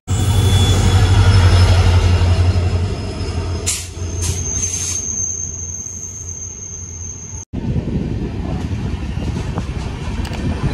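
A train runs on rails during a South India cycle tour, with a loud, continuous close rumble, high metallic wheel squeals and a brief cut partway through before the steady clatter resumes.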